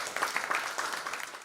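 Brief burst of sustained applause from workshop participants at the close of a session on harmonised standard operating procedures, a steady wash of many hands clapping at moderate distance.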